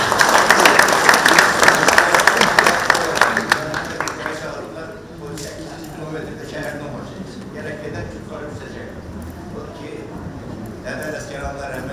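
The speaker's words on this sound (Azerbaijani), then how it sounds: "akademik Rafail müəllimi ürəkdən alqışlarla yola salırıq" Loud audience applause at a centenary tribute event for Islam Ələsgərli, sustained clapping filling the first few seconds, then fading into scattered lighter claps and crowd murmur under background talk.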